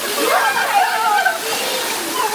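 Water sprays and sloshes from a shower at a pool, a continuous splashing rush, close and fairly loud, with children's voices mixed in.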